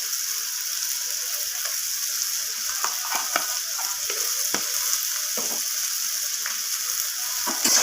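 Masala cooked with salt and ginger paste sizzles and hisses in a pan for a chana paneer dish, while a spatula scrapes and taps against the pan in an uneven rhythm, close up, with no talking.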